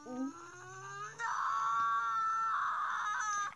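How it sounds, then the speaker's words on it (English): A shrill, sustained scream rises after a short higher call and holds for about two seconds, loud and close with no talking over it. "Why did you scream?"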